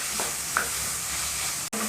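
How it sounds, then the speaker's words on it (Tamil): Onion, tomato and dried red chillies are sautéed in a pan for tomato chutney, producing a brief, steady broadband sizzle up close with a faint scrape of stirring and a sudden short break near the end. "வெங்காயம், தக்காளி, காய்ந்த மிளகாய் 3மே நல்லா வதங்கி வரணும்"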